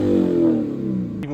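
Lexus IS F engine with a factory muffler delete exhaust, a short close, loud rev that sustains and then drops away over about a second.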